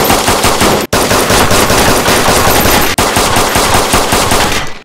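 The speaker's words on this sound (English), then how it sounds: "Come here and grab an SKS and shoot this barrel." An SKS rifle fires at a barrel in DayZ, loud rapid shots rattling almost nonstop with two brief pauses.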